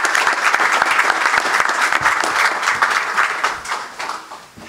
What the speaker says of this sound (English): Let's give all our staff, our student athletes a round of applause.